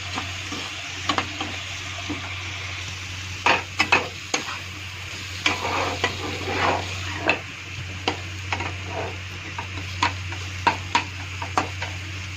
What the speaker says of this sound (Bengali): এখন ভালো করে ভাজা ভাজা করব।